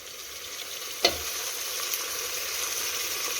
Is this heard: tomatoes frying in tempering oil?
yes